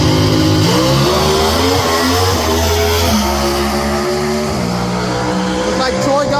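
Drag racing cars at the U.S. Nationals, loud engines roaring and revving with rising pitch sweeps as they pull down the track, close and powerful, with an announcer talking over the noise.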